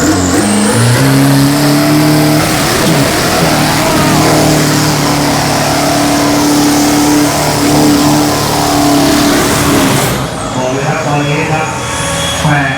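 A diesel drag car at a Thai drag race holds a loud, sustained revving burnout up close, the engine note droning high and steady before cutting off abruptly near the end; voices can be heard amid the roar.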